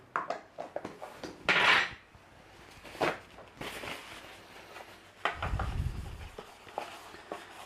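A metal loaf tin being greased with butter, with sporadic clinks, scrapes and knocks of the tin and utensils close by, one deeper thud midway, and quiet stretches between.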